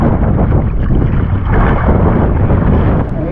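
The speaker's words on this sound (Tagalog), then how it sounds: "Hangin pa naman." Strong wind roars across a small fishing boat at sea, a loud continuous buffeting rush that fills the whole moment with no voices.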